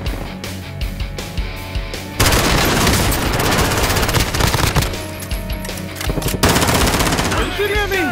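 Dense automatic and single gunfire from a Warzone battle royale match, loud and sustained across the clip with bursts of rapid shots, layered with game effects and occasional voices in the background.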